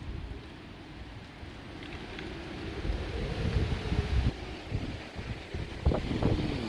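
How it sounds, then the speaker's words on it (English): Lingering wind after Hurricane Laura in a debris-strewn front yard in DeRidder, Louisiana, a steady low rush that swells and gusts against the microphone, with faint background sounds. "There's still a little wind blowing."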